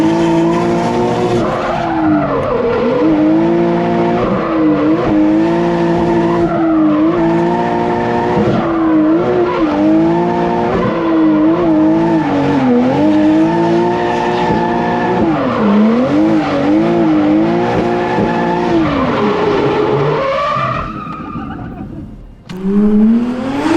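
A stock-turbo Toyota Supra A90 with a dual-clutch transmission revs loudly up and down in long, sustained pulls, its engine tone rising and falling close by before the sound briefly drops away near the end.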